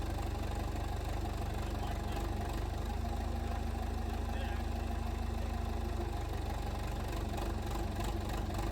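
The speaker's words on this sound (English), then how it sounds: "the backhoe slowly and gently started to lift, the straps stretching under the weight of the boiler." A backhoe engine runs steadily at a low idle while lifting a two-foot gauge steam locomotive boiler on straps, a continuous close rumble with no talk.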